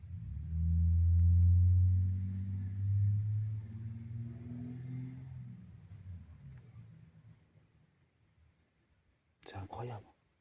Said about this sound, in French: Parce que les voitures font que de passer.